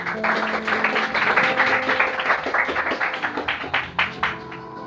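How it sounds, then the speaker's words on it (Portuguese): Church congregation giving a round of applause for Jesus, a swell of many hands clapping that thins out into scattered claps toward the end. "Dá uma salva de palmas para o Senhor Jesus"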